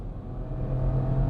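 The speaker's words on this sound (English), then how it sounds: "It's revving away because it's trying to think of what to do next." Automatic Ford Fiesta engine revving as it accelerates on the open road, a steady low droning rumble that swells slightly, heard from inside the car with no talk.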